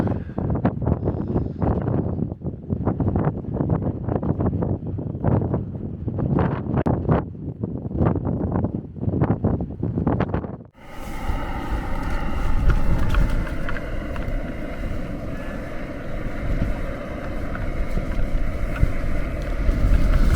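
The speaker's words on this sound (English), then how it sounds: "Certainly very, very windy as well" Gusty wind buffets the microphone in sharp bursts at a wet wild camp on Chrome Hill, then turns into a constant heavy roar of wind with flapping fabric, loud and close.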